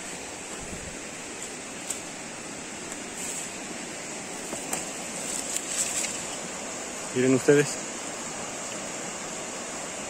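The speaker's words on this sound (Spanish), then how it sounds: "miren la diferencia de este río y el tremendo caudal que lleva" A swollen river in flood rushes past with a steady, broad roar of water, continuous and fairly close, while a person speaks briefly over it.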